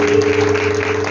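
A church congregation at a worship service claps together, a dense, loud wash of applause holding steady through the short stretch, with a sustained tone humming beneath.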